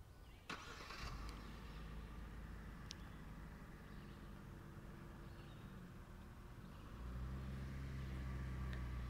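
Engine of a 2021 Genesis GV80 3.5T SUV starting up and running low and steady as it moves under remote park assist, a quiet continuous hum that swells slightly toward the end.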